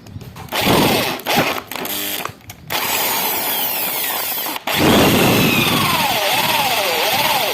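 Power drill with an 8.5 mm bit enlarging a worn bolt seat for a motorcycle step, running in short stop-start bursts then a longer steady whine with shifting pitch, loud and close.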